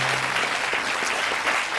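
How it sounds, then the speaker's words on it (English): Studio audience applause fills the room at a game show, a dense, steady patter of many hands clapping, close and moderately loud, without a break. "another round of applause, please"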